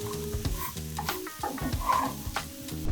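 Halloumi frying in a hot pan, heard as a steady close sizzle with small crackles and pops under a layer of tonal background sound.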